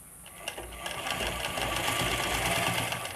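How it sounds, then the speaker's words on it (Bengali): A sewing machine runs steadily, stitching elastic onto fabric, with a continuous close whirring hum and rapid needle rhythm throughout, no talking. "ঠিক এরকম টেনে টেনে সোজাভাবে টেনে টেনে আপনাদেরকে সেলাইটা দিতে হবে"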